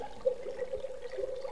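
Water trickles and splashes softly in a garden fountain, a steady close burble with small irregular splashes and no talk.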